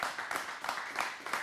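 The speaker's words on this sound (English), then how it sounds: "Let's give her another round of applause." An audience claps in a short burst with fairly distinct, rhythmic individual claps, fairly close, without talk.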